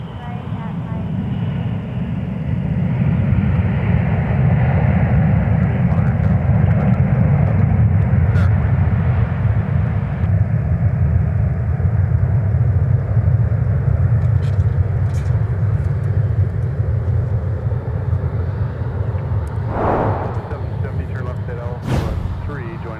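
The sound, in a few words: Delta Airbus A321-200 airliner arriving from Phoenix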